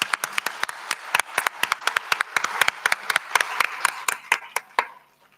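An audience at a mental wellbeing event claps after a school group's performance. The claps are crisp and close, coming in an uneven but brisk patter that thins and stops near the end.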